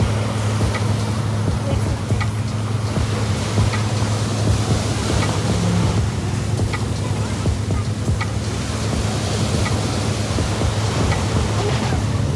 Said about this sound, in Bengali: এখন আমরা সমুদ্রের গর্জন ফিল করছি, দারুণ আওয়াজ হচ্ছে